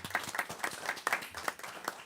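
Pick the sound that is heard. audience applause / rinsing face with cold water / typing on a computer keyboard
audience applause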